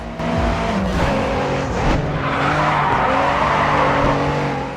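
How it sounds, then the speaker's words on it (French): A race car in the video game Grid 2 skids and drifts, its engine droning loud and continuous while tyres squeal through a sustained slide, with no speech. "Ouais, joli dérapage"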